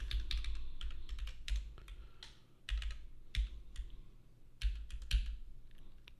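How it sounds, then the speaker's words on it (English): A computer keyboard is typed on in irregular bursts of quick, close clicking keystrokes with short pauses, with no talk. "Keep hitting the wrong keys."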